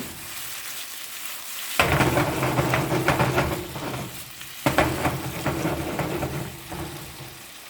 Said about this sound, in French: je vais faire revenir les légumes